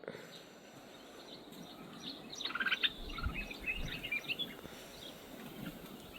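A small bird chirps in the morning near a tea plantation in Ooty, giving a few quick high, faint calls in the middle of a quiet, distant outdoor background.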